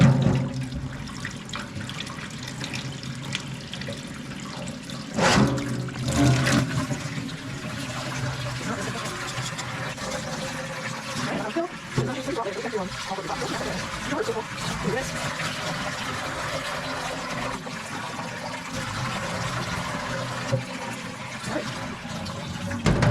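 Water running and pouring into a container of soaking microgreen seeds, a steady splashing stream that continues throughout with a few louder sloshes, close by.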